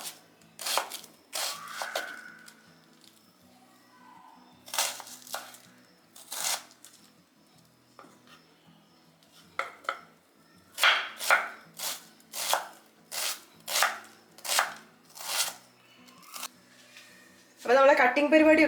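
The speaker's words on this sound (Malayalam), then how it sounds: "അപ്പോൾ നമുക്ക് ആദ്യത്തെ പരിപാടി എന്ന് പറഞ്ഞാൽ സവാള ഒന്ന് കട്ട് ചെയ്യുക" Onions are chopped with a knife on a cutting board in a home kitchen, in bursts of quick, crisp taps separated by pauses, close and clear with a quiet background.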